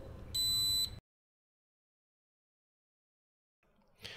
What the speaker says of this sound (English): This should make the device beep loudly